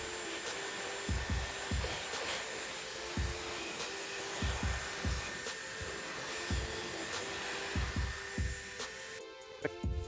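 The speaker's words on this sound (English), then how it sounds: "you can use your hair dryer to dry the brew group faster, but make absolutely sure that we dry it only with cold air" A hair dryer on cold air blows steadily over the brew group of a Philips coffee machine, a constant whooshing hum with soft dull thumps throughout.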